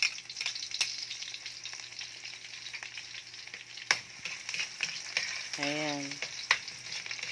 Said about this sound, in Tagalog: Hinalo-halo hanggang medyo maging brown.